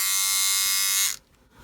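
A Philips Norelco OneBlade Face + Body electric shaver, not fully charged, runs with a loud, steady motor buzz for about a second before cutting off abruptly, leaving near silence.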